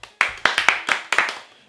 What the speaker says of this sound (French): Applaudissez encore cette incroyable personne.